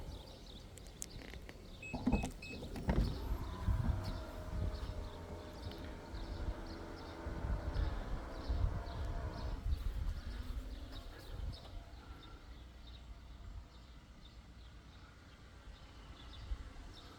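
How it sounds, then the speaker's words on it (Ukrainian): The power tailgate of a 2019 Nissan Rogue SL AWD opens after a foot wave: a few soft knocks, then a steady electric motor whir lasting several seconds before stopping, leaving quieter outdoor background. "Відкривання помахом ноги"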